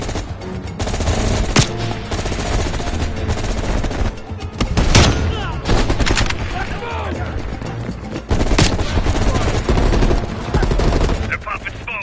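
Loud, dense gunfire rattles through a Call of Duty Black Ops Cold War firefight: sustained automatic bursts and sharp single shots close by, with voices shouting in the mix.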